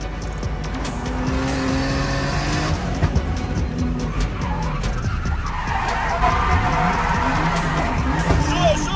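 At a French Drift Championship round, a drift car squeals its tires in long skids over a roaring engine, with a crowd faintly audible in the background.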